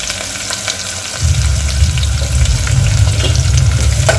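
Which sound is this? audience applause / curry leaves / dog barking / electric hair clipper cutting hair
curry leaves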